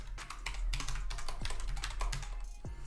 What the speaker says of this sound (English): Here I'll enter my password